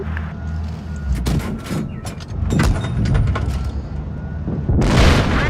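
A KV-2 heavy tank's cannon fires a single shot in a tank battle video game, a broad booming blast with a sharp crack, heard among other thumping game impacts and engine rumble.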